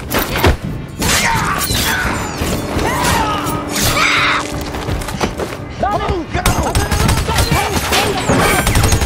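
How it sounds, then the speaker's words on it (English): Chaotic gunfire and crashing impacts in an intense action scene from the film Logan, dense bursts and smashing debris filling the mix, with shouting voices mixed in throughout. "Stop shooting!"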